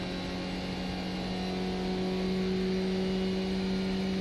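A Skip Barber race car in iRacing at Circuit de Barcelona-Catalunya runs flat out down the main straight, its engine holding a steady high-pitched drone at full throttle that rises slightly in pitch.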